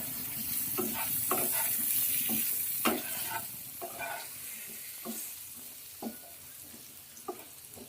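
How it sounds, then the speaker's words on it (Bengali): Eggplant frying in a pan with turmeric and salt gives a steady, close sizzle, broken by occasional scrapes and clinks as the pieces are stirred and turned. "পরিমাণ মতো লবণ দিয়ে দিলাম দিয়ে উল্টো ভেজে নেবে বেগুনটা"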